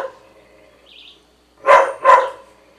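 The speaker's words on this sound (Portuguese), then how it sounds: "o som dos cachorros latindo estão saindo" Two loud, close dog barks in quick succession at an indoor home setting, preceded by a faint high chirp like a bird; no talking.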